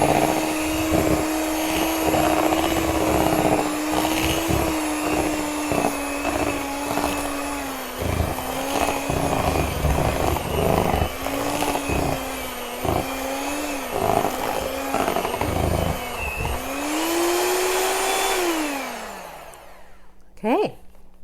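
An electric mixer whirs through lemon quick bread batter, a loud steady motor hum that wavers in pitch as it churns, with brief pauses and knocks before it winds down near the end, while a voice speaks over it.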